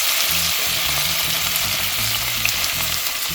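Garlic, onion and tomato sautéing in a pot give a loud, dense, continuous sizzle, close and unbroken for a few seconds, with a low rhythmic tonal layer underneath and no voices.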